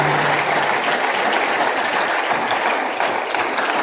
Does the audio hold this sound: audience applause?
yes